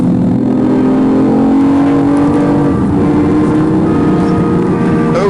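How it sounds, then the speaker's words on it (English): A BMW i8's three-cylinder twin-turbo engine accelerates hard in its sportiest mode, heard from inside the cabin, a steady loud whirring drone rising gradually in pitch with a faint turbo whine. "the tiny 3-cylinder twin-turbo engine spooling"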